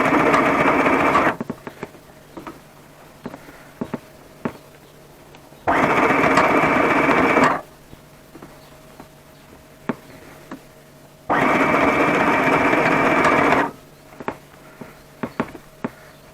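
Treadle sewing machine stitching a thick seam in a village house, running in three separate loud bursts of rapid mechanical chatter, each about two seconds long, with quiet pauses and light clicks between them.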